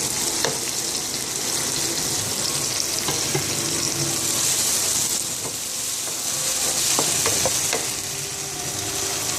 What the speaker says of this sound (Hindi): अब हम टोमेटोज़ को थोड़ी देर कुक करेंगे ताकि इसका टमाटर का पानी खुश्क हो जाए